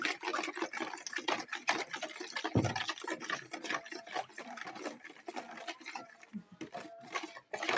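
Pickling liquid poured over sliced red onions in a jar, giving a steady close splashing and trickling that runs the whole time with small gurgles and spatters.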